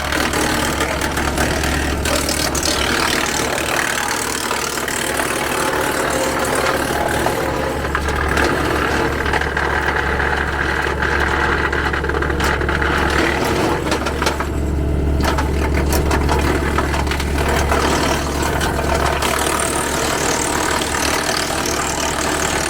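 A wood chipper shredding bluegum branches runs continuously with a loud, steady engine roar and grinding, crunching texture as the wood is fed in, close up with no pauses and no talk.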